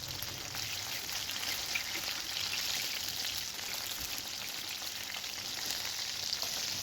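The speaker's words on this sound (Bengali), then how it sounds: "মাছগুলোকে একে একে সে ব্যাটারের মধ্যে ডুবিয়ে তেলে ভাজতে থাকলাম" Battered fish pieces frying in oil over a low flame, a steady, even hiss and fine crackle sustained throughout without speech.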